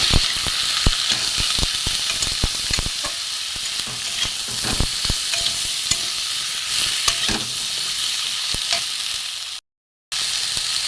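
Spinach curry frying in a pan crackles steadily while a spoon scrapes and taps against the metal in quick, irregular strokes, close and fairly loud, with a brief dropout near the end and no talking.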